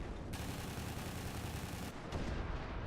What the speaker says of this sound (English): Trying to fire some chasing away shots on him.